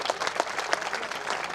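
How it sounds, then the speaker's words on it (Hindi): Crowd applause at a community gathering honoring a man who passed an exam, a brief, fairly faint patter of many hands clapping, slightly distant and uneven. "उसके लिए जबरदस्त तालियां बजाएं।"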